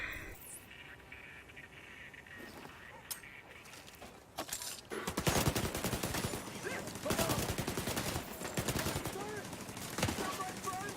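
Turret gunfire in The Division 2 opens up partway through, loud sustained bursts of rapid shots after a quieter stretch of ambient game noise, with voices faintly underneath.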